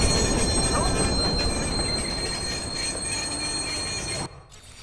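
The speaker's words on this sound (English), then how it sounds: "Northbound train, arriving shortly." A subway train in the Watch Dogs video game pulls into a station, its steady rumble and squealing wheels filling the scene loudly before the noise cuts off abruptly near the end.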